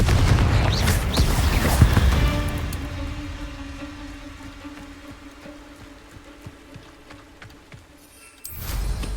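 A Confringo fire spell explodes in Hogwarts Legacy with a loud, close boom at the start, then a long rumbling decay that fades over several seconds before another burst of noise near the end.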